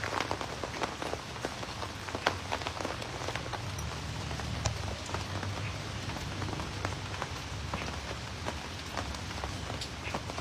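Steady rain falls on surfaces at a temple in the evening, a dense continuous patter with scattered sharper drops, moderately loud and unbroken for the whole stretch.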